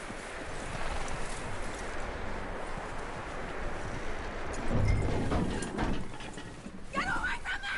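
Horse hooves clip-clop steadily on the ground in the open-world western game Red Dead Redemption 2, with a neigh and brief speech over rustling wind.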